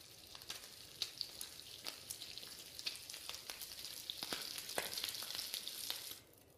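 Meat cooks over a fire in the survival video game The Long Dark, a steady soft sizzle scattered with small crackles and pops, fairly faint and alone, fading out at the end.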